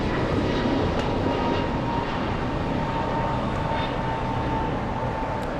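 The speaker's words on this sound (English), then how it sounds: "Takeoff, we have another American, this time an A321neo flying to DFW." An American Airlines A321neo takes off at LAX, its engines giving a continuous, loud broadband roar that stays steady and unbroken throughout.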